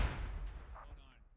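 A grenade blast in the military shooter Squad, a single deep boom that rolls off and fades over about a second, with faint distant crackles behind it.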